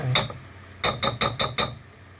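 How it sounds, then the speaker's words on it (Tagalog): A spoon stirs honey in a cooking pan with about six rhythmic scraping, knocking strokes against the metal, one early and then five in quick succession, moderately loud and close with no talk. "Haluin natin siya."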